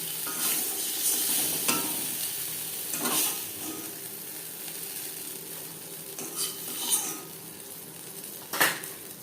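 Eggs frying in hot oil in a pan for egg curry, a continuous close sizzle broken by several sharp scrapes and clinks of a spatula against the pan.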